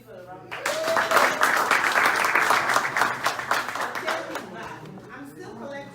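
An audience at a town hall fundraiser bursts into loud, dense applause for a donation, swelling quickly, peaking early and tapering off, with a voice speaking over the clapping.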